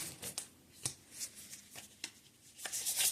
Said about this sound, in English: I'm going to continue to shuffle because I don't feel like I was done shuffling yet.